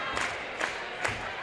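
A big, enthusiastic crowd at a high school boys district-final basketball game roars steadily, with three brief swells of cheering and shouting rising over the dense, continuous noise.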